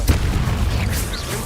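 Confringo blasting spell explosion in Hogwarts Legacy, a loud low boom with rumbling bass that fills the short moment, followed by a dense roaring tail and faint game effects.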